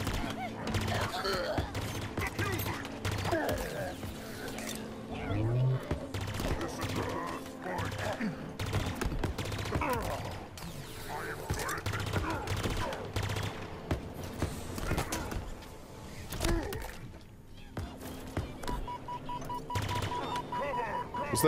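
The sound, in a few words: pulse rifle gunfire in video game Halo Infinite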